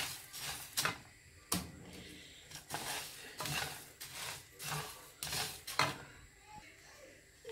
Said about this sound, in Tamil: நான் எடுத்து வைத்த சோம்பு வேர்க்கொம்பையும் போட்டு இதனுடன் வறுத்து கொள்வோம்.